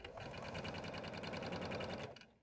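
A sewing machine stitches fabric pieces for a pillow's appliqué letter, running steadily at a fast, even rhythmic clatter close by, then stopping near the end.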